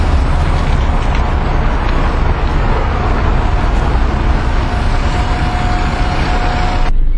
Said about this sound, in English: Just put in the bags inside the lorry